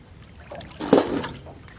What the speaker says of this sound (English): just add a little bit of water, just so they've got a little bit of water sitting over the top of them